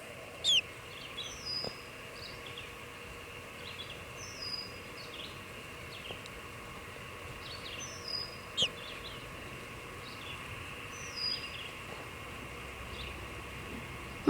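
Wild birds chirp outside in short, scattered bursts of high tweets over a steady faint background hum, several calls repeating at intervals.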